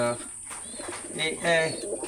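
A golden pigeon coos softly nearby in a few low, rolling calls, over a steady high background hiss.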